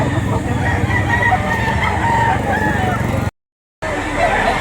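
A rooster crows amid a steady, busy outdoor din at a chicken market in Lipa, Batangas, with a brief drop to silence near the end before the background noise resumes.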